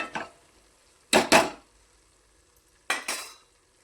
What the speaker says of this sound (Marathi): आता आपण हे हलवून घेऊ मसाला